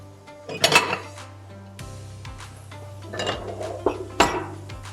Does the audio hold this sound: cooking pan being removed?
yes